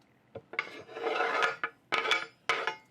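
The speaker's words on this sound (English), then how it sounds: "use the back of the knife when you want to scrape" The back of a knife scrapes onions into a pan with a rasping metal-on-metal stroke, followed by several short clinking scrapes, close and clear with no talking.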